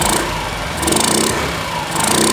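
A Honda Ruckus scooter fitted with a stage 2 go fast kit runs close up, its small engine buzzing loudly and pulsing between revs with a raspy intake note.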